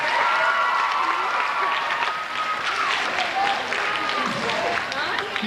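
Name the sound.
audience applause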